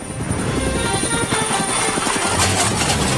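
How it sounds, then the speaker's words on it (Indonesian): A helicopter sound effect in a toy play scene, with steady chopping rotor beats running loud and continuous throughout. "Aku hanya perlu menekan dan helikopter membawa emas juga datang."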